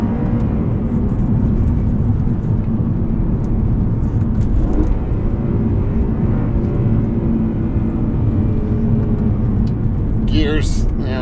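A BMW E92 M3 engine pulls hard with a steady loud rumble from inside the cabin, its pitch climbing and dropping through several gear shifts, with someone talking over it.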